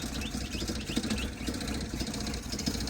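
A 1977 Toyota motorhome engine idling steadily while warming up, a continuous low mid-pitched rumble with a faint rattling texture, heard close and alone.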